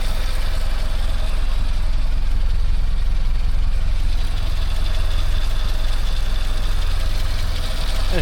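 A classic Mini engine idles steadily up close on a cold day, a loud continuous rumble with a faint ticking knock throughout.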